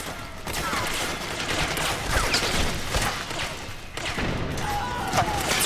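Enemy soldiers firing at the player in Metal Gear Solid 4, a dense, continuous rattle of overlapping gunshots and fusillade with thumps, loud and close throughout, dipping briefly near the four-second mark before resuming.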